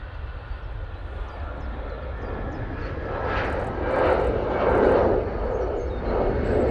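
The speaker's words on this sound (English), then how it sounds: "There goes the EasyJet 319 off to Malaga." An EasyJet Airbus A319 takes off at Manchester Airport, a steady broadband jet roar that swells and peaks midway, heard from a distance outdoors with no talking.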